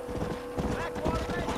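Horse hooves clip-clop in a steady trotting rhythm, fairly close, with a voice speaking briefly over the footfalls, in a video game.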